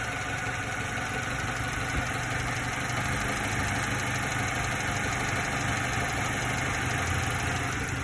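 A Subaru Sambar engine idles steadily with its lights on while its carburetor and timing are tuned, a close, continuous mechanical drone with a faint knocking shake and no talk over it.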